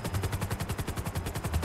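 Rapid automatic gunfire from a GTA 5 roleplay session in a favela setting, a steady burst of evenly spaced shots, loud and close, with no talk over it.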